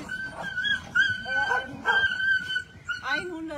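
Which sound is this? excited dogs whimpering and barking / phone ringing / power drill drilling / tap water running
excited dogs whimpering and barking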